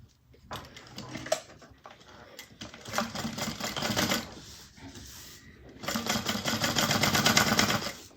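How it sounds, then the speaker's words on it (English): A sewing machine top stitching a clutch in bursts of rapid, even needle chatter, a short run, a longer one, and a final sustained run, close and clear with brief pauses between. "I'm going to top stitch"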